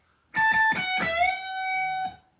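Electric guitar lead phrase: a few quick picked notes high on the neck, then one note bent up a whole step and held, ringing clearly and alone before fading.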